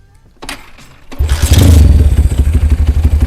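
A Honda CB100 motorcycle engine is kicked over with a few thumps, then catches and runs with a loud, steady, chugging idle up close.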